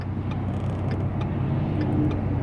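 Ford Mustang with a stock 3.7L V6 cruises on a street, a steady low engine drone and road rumble from inside the car, even and moderately loud, with no talking.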